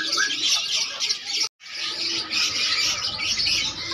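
Many caged songbirds, including turtledoves and magpie-robins, chirp and tweet continuously at a busy bird market in Makassar, a dense, lively chorus with a brief silent break midway.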